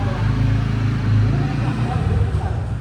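A new motorcycle's engine runs close by with a steady, throaty low idle rumble and faint pulsing, loud and continuous for a few seconds.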